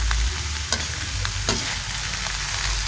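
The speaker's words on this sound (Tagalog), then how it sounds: "Igisa na natin maigi ngayon." Cabbage and mixed vegetables sautéing in a pan, a steady close sizzle with a few sharp scraping stirs of a utensil against the pan, no voices.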